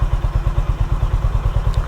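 Honda H'ness CB350 motorcycle engine idling at around 1000 RPM after the auto choke has finished, a loud, close, steady low thumping pulse with an even rhythm.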